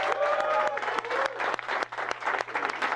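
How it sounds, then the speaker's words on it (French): Indoor audience applause for an MC at a YouTuber rap battle, a dense continuous clatter of many hands at close range, loud and steady for a few seconds with no talking over it. "Allez, on applaudit la MC là."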